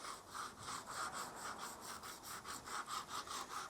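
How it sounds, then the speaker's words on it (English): Faint, steady back-and-forth rasp of a sanding block smoothing paint edges along the fold of a Holden HQ car door, rhythmic strokes repeating quickly with no talk. "so I've got a block right along the fold over. Smoothen that off."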